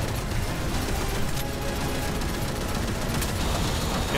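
Rapid video-game gunfire in a co-op tactical shooter, dense overlapping bursts of shots and mechanical clatter hammering continuously and loudly throughout, with no pauses.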